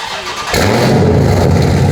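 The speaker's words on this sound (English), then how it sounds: "you see the quad tips on the back of the Charger. See how the sound comes up." Widebody Dodge Charger's engine fires up through 4-inch quad exhaust tips, a sudden loud, deep rumble that holds steady and close after a quiet start.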